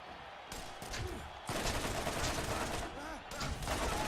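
Gunfire in the video game Borderlands, Mad Moxxi's Underdome Riot; dense, continuous bursts of rapid shots and explosions fill the stretch, loud and close, with voices talking over the battle.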